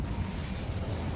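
The Incendio fire spell from Hogwarts Legacy erupts as a dense, roaring burst of flame, a loud low rumble holding steady throughout without any talking.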